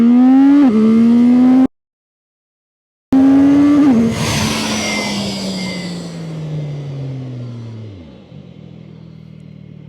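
CFMOTO 675SR-R motorcycle revs hard through the gears from a standstill to 100 km/h, each rising engine note breaking off at a shift, then the roar fades as the bike pulls away into the distance.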